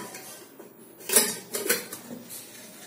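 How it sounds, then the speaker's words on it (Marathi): Pots and lid clank twice as masala tinda goes into a pressure cooker in a home kitchen, a couple of close metallic knocks and clinks after a quiet start. "मी आता हे कुकरला लावतो."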